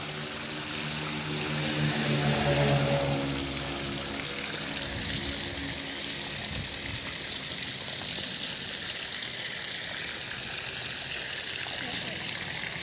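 Irrigation water flows steadily into a guar bean field in a continuous, soft rushing wash, with faint voices at the start.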